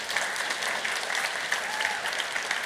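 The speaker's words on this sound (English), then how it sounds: "Give him a big round of applause." An audience at a Dutch game development event gives a sustained round of applause, dense and even, heard at moderate volume from a distance with no voices on top.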